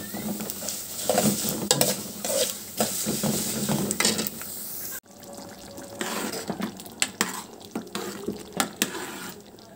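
Vermicelli fries in a pan with a spoonful of ghee and a spoonful of oil, sizzling steadily under repeated scraping stirs of a spoon, close and fairly loud, with a brief break midway before the stirring resumes.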